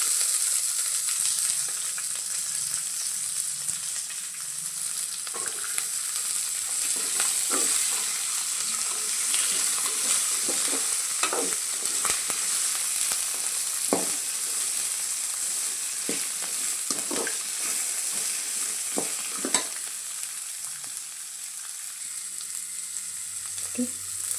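Ginger and garlic fry in a pan for tomato bath, with a steady bright sizzle and repeated clicking scrapes of a spatula stirring them.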